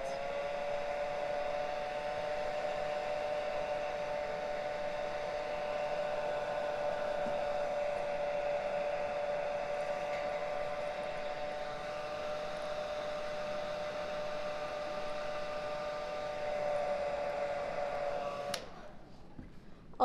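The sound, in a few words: hair dryer blowing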